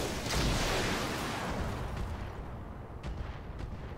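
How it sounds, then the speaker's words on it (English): Heavy mech weapons fire in the game Roguepoint as a broad, roaring barrage that swells at the start and rumbles on, followed by a few fainter thuds near the end. "We're going to fire everything on him."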